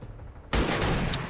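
A sniper rifle shot in XCOM 2 bursts in sharply after a quieter stretch, a loud close crack followed by a sustained rumbling tail.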